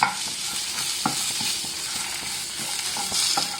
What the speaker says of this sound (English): It is just to make sure that all the spices are evenly roasted.